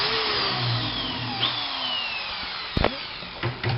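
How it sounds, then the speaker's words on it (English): A power drill bores mounting holes through a race ski for a binding plate, a steady whining drone with a few sharp bumps and clunks near the end. "basically drill the holes that are appropriate to mount the plate down on the ski"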